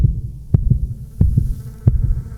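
A low, thudding heartbeat pulses steadily, each beat a double thump, repeating about three times with a faint hum underneath.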